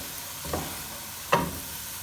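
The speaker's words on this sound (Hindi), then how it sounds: "मीडियम लो फ्लेम पर इसको हम कुक करेंगे और सब चीज़ों को इस तरह से हम मिक्स करते जाएंगे।" Two scrapes of a spoon stir a chicken and spring onion mixture in a pan over a medium-low flame, under a steady soft sizzle.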